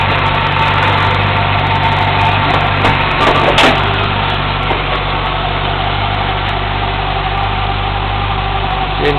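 A big V8 engine in a 1959 Chevrolet station wagon idles steadily and loudly with a deep, even rumble, and a brief clatter cuts in about a third of the way through.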